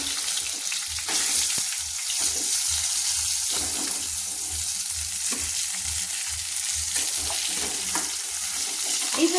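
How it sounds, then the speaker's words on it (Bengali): Eggplant slices frying in hot oil in a pan give a steady, close sizzle and crackle, with occasional scrapes and clinks as pieces are lifted out with a spatula. "বেগুনগুলো কিন্তু ভাজা হয়ে গেছে। এর থেকে কিন্তু বেশি আমি ভাজবো না"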